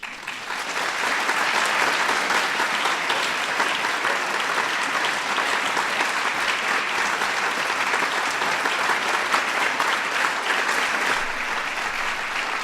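Sustained, dense applause from a large audience honoring recipients of the National Medals of Arts and Humanities, a loud, even roar of clapping that holds steady for over ten seconds with no talk over it.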